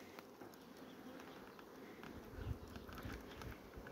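Faint buzzing of honey bees flying around outdoors on a cool, sunny day, a soft steady hum with scattered light taps and rustles, no voices.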